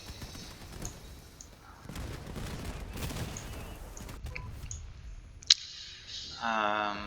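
Short tapped bursts of gunfire in a first-person shooter video game, several quick separate shots over a busy, noisy game background, moderately loud and without speech.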